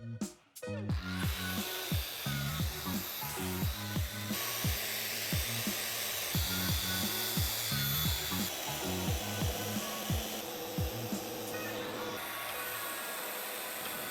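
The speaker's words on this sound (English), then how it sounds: "started to sand with 120 grit" 120-grit sandpaper rubs back and forth across wood in steady, rhythmic strokes, a continuous scratchy hiss with regular pulses, close up and with no voices.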